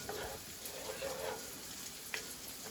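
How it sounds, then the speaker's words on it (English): Soft, steady bubbling and light sizzling from a creamy vodka pasta sauce simmering in a pan on the stove, with occasional small pops, faint and close. "I'm going to let this simmer so all of the flavors can combine."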